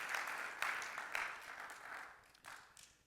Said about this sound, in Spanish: ¿No le das un aplauso a Él?